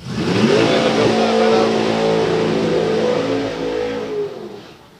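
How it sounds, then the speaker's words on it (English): A nitro funny car revs hard through its burnout on a drag strip, a loud and sustained throaty engine roar that holds steady and then fades away near the end. "A little bit of a tank slapper as she finishes the burnout there"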